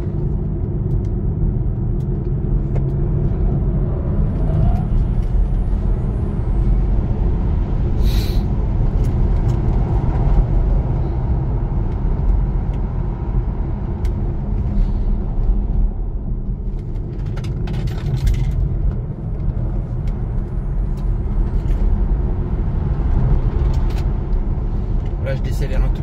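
A Tesla Model 3 eases off on a race circuit at Clastres, with a steady low rumble of tyres and road noise under a voice speaking throughout.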